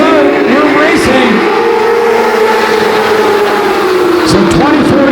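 Can-Am midget race cars at Sauble Speedway roar as the green flag drops, a loud sustained engine drone with rising revs, under an announcer's continuous commentary.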